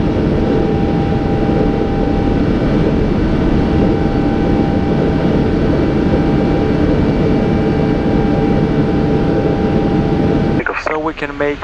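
A Lufthansa Cargo Boeing 777F cockpit during the climb out of Frankfurt bound for Narita, a loud steady engine and airflow roar with a constant tonal hum, followed by a voice on the radio at the end.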